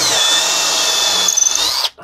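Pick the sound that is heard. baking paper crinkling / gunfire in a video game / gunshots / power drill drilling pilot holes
power drill drilling pilot holes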